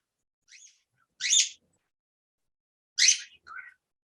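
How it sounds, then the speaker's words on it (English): Three or four brief, high chirps in two small clusters separated by silence, fairly close and clear, with nothing else audible. "I hear the birds have questions"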